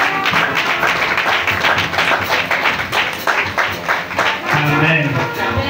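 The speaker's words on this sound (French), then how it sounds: "Ça mérite des acclamations." A crowd applauds at a Bible institute certificate ceremony for first-year students, a dense, continuous wash of clapping with voices and cheers mixed in.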